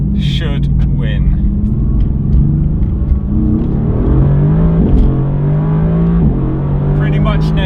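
A Mercedes-AMG GT R drag races a 700HP Audi RS4 B5, heard as a continuous loud engine drone with rising pitch through the gears, rumbling close, while someone commentates over it.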